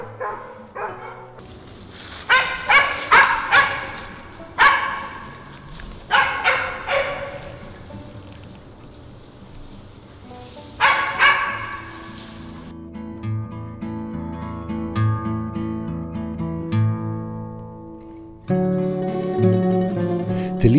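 A brave, medium-sized hunting dog barks in a series of sharp, close barks spaced irregularly, followed by quieter whimpering sounds while music plays, with no talking.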